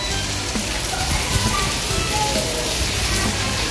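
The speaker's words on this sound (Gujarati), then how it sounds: "જો કેટલો ફાસ્ટ વરસાદ ચાલુ છે" Heavy monsoon rain pours onto a parking area, a dense, steady roar of drops hitting hard surfaces close by, unbroken from start to finish.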